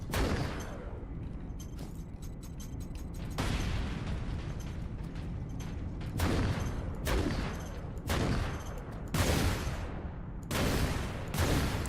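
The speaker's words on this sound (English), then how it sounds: "when you shoot the fifth thing, one of them will explode" Gunfire and explosions from the game Warhammer 40,000: Space Marine, a steady roar of shooting broken by repeated loud bursts and booming blasts across the whole stretch, with no talk.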